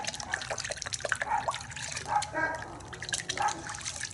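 Car wash soap trickles and drips from a shot glass into a bucket of water with small splashes and dribbling sounds, close by, with soft background noise.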